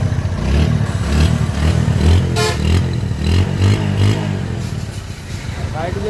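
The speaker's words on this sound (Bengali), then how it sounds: "ডিসকভারের যে সাউন্ডটা থাকে সেই সাউন্ডটাই কিন্তু গাড়িটায় আছে" A Bajaj Discover motorcycle in fresh condition runs with a steady, throbbing engine note and occasional clattery revs, with someone talking over it throughout.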